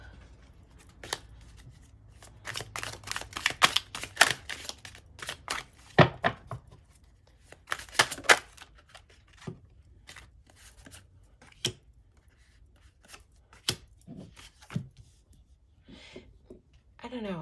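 Tarot cards being shuffled and drawn during a love reading, a run of crisp papery riffles and snaps in the first half, then scattered single card flicks and slides, close and fairly quiet, with soft talk between them.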